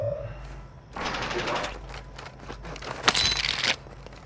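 Rapid bursts of automatic gunfire in Call of Duty: Modern Warfare II, sharp cracks clustering mid-clip with one loud shot standing out, mixed with crunchy effects while players talk over the action.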